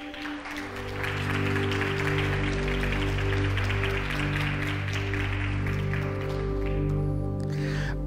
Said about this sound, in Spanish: ¿Le podemos dar un fuerte aplauso allá a Jesús?